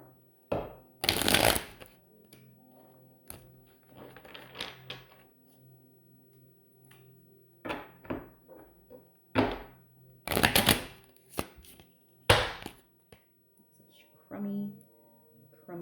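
Cards riffle-shuffled several times in bursts of crisp flapping and snapping, with quiet pauses between; soft voice murmurs faintly underneath.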